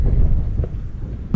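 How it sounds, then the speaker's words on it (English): Strong wind buffets the microphone outdoors at an RV campsite, a loud, steady low roar filling the whole moment with no talk. "Super windy, so I don't know if he's digging that."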